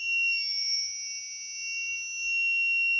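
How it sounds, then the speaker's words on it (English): An electronic buzzer sounds in a room with a loud, continuous high-pitched tone that holds steady throughout, rising and dipping slightly in level, with no talking. "It's because of the noise produced by the buzzer."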